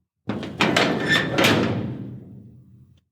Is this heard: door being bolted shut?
yes